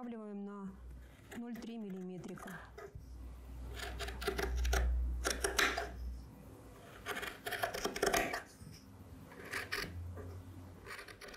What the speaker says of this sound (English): Now we'll trim it. Careful with the seam, just how it was at the bottom. Trim it by 3 millimeters.